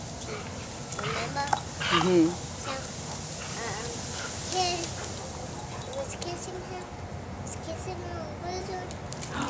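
A puppy near a lizard gives soft whimpers and yips mixed into people chatting, with light background noise throughout.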